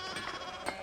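A sheep in the video game Pentiment bleats in a short, steady call that fills the whole moment at close range, with no voices over it.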